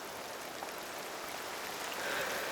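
Steady rainfall in the video game Cairn, a soft, even hiss of drops pattering on surfaces, fairly quiet and continuous throughout with no talking.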